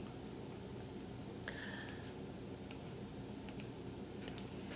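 A few sharp computer mouse clicks while opening a new data table in JMP statistics software, scattered singly and in a quick pair over a steady low room hum, close and fairly faint.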